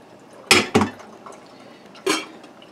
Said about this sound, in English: the vegetables are done, and I'm going to drain them